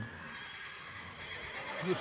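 Horse at a yearling parade whinnies near the end, a short neigh rising over steady crowd murmur and outdoor ambience, with hoof clops faint in the background.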